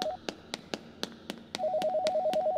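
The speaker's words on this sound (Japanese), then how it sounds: "電話鳴ってる。" A telephone rings in the horror game Yomawari 3 inside a night-time school, a short repeating electronic tone over a run of sharp regular taps like footsteps, then a steady pulsing ring that carries on and grows louder.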